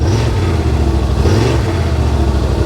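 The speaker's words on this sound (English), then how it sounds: "so I'm gonna touch the throttle on crawl mode" A side-by-side vehicle's engine, in neutral and in crawl mode, gives a low, steady rumble with two gentle swells of throttle, close by and without talk.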